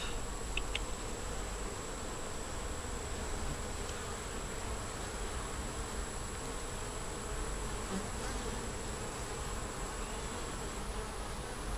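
Honeybees in a small nuc hive hum in a dense, continuous buzz that stays steady and close throughout, with no talking.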